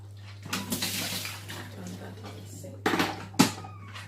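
Small splashes of water poured into a pot of green bananas in a home kitchen, a few short bursts of sloshing with clinks of the pot, fairly quiet, while someone talks.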